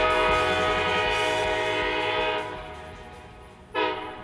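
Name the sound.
A&M excursion train with two vintage Alco locomotives arriving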